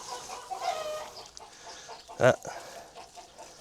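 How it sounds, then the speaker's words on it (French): Hens clucking in a greenhouse while laying, a few soft, close calls with one louder squawk near the end, under faint low background noise and a brief spoken exclamation. "Là, je pense que vous les entendez, les poules."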